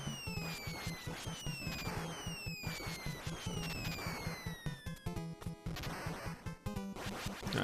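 Rapid gunfire in the NES game Contra, with dense chiptune shots and explosion noises repeating in quick bursts over descending synth sweeps and a driving game soundtrack, loud and continuous.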